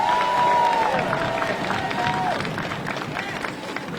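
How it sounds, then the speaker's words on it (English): Crowd at an outdoor MLK street renaming ceremony in Milwaukee applauding and cheering. The clapping is loud at first and tapers off over four seconds, with a voice briefly audible over it. "Let's give her a round of applause."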